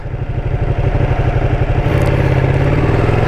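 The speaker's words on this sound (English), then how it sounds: "for upshifting you can do it just like that" A Ducati Panigale 959 sport motorcycle engine revs loudly up close with a rapid, pulsing exhaust note that steps in pitch partway through as it upshifts with a quick shifter.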